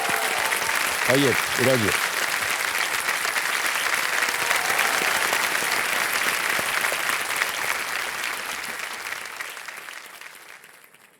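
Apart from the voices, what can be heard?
applause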